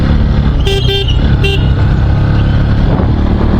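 A motorcycle on a Republic Day group ride hums loudly at close range as the engine drones steadily, with a few short horn toots from passing traffic cutting through.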